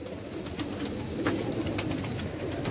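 Soft pigeon cooing in a steady outdoor setting near a large net enclosure, low murmuring calls repeating under a constant background hum, moderately near.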